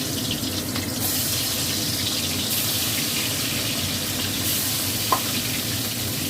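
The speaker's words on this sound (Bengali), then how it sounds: "এবার আমি মাছগুলো দিয়ে ভেজে নেব।" Fish pieces for dahi pona fry in hot oil in a wok, giving a loud, steady, broad hiss and sizzle that stays even throughout, with one small clink near the end and no talk.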